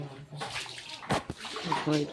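A child plays in water, with splashing and sloshing mixed with bursts of a young voice speaking over it at close range.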